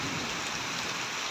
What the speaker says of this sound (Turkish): Şöyle açtım sizlere güzel yağmur sesine.